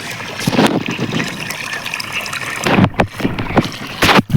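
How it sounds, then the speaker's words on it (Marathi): Borewell water flows through irrigation channels in a groundnut field, a close, loud trickling and gurgling rush with splashy bursts and brief handling noises near the end. "तर आपल्या भुईमुगामध्ये पाणी चालू केलेलं आहे आपण बोरचं."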